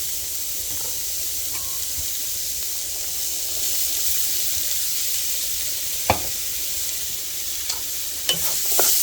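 Celery and onions sizzle in a dark oil-and-flour roux for chicken and sausage gumbo, a steady broad hiss close by with a few faint knocks of the spoon stirring near the end, no talking.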